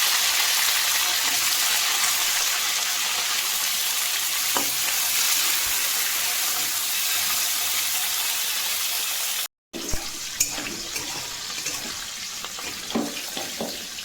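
Lafa greens and drumstick pieces fry in hot oil in a pan, giving a loud, steady sizzle with stirring scrapes. The sound cuts out for a moment partway through, then the crackle and stirring resume.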